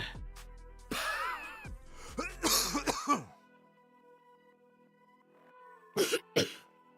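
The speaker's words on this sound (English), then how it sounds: "There's lots of different coughing noises." A person coughs repeatedly up close, sometimes clearing the throat. The coughs come in rough bursts with a few gasping breaths between them and end in two short final hacks after a pause.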